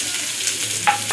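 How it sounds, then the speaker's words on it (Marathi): Onion fries in hot oil with a steady, close hiss of sizzling and a brief scrape of stirring near the end. "तेल गरम झालेलं आहे. त्याच्यामध्ये आपल्याला कांदा टाकायचा."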